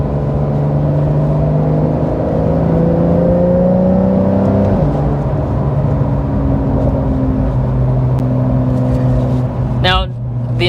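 A 2023 Porsche 911 GTS engine drones loudly from inside the car as it climbs through the revs on a twisty road, the tone rising steadily, then dropping at a shift and pulling again, with a brief clatter near the end.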